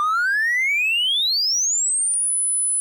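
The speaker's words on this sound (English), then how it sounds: "And now let's see how high that 1 kilohertz is." A pure sine tone from the VCO of a Bullfrog XL synthesizer sweeps steadily upward from about one kilohertz to a piercing high pitch, then holds there, clean and alone with no voices.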